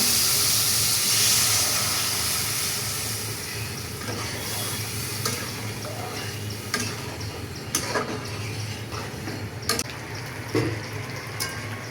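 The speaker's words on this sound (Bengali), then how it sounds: "এখন আমি জল দিয়ে দিব।" Water poured into a simmering okra curry in a pan sets off a loud hissing rush that gradually fades into low steady bubbling, dotted with a few sharp clicks near the end.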